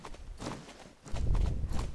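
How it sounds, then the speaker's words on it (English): Hooves of a Belgian Warmblood horse in a slow gallop in the Star Stable Online video game, a soft rhythmic clip-clop that swells louder and heavier in the second half, with no talk. "so let's see the slow gallop"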